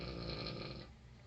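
Loud, sustained snoring from a person, a single drawn-out rasping breath that fades toward the end, heard alone without talk.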